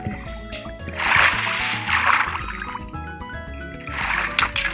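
Water splashes in a Minecraft-style block-building game, coming in two loud, sustained sloshing bursts, with light clicks and a low game tone running throughout.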